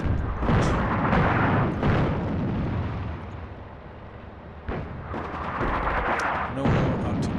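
Artillery strikes in the war strategy game Attack at Dawn: North Africa, set at the First Battle of El Alamein: loud rumbling booms and blasts rolling together, swelling and fading with a sharper burst near the end.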